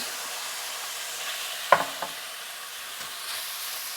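Onions frying in a pan with meat juices over fairly high heat, a steady soft sizzle broken by a couple of clear scraping and knocking stirs, close by.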